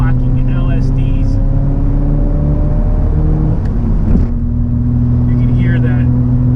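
A Nissan Skyline R32 GTR with HKS parts and locking LSDs cruises with a loud, steady engine drone from inside the cabin, the note shifting slightly as it goes, while someone talks over it.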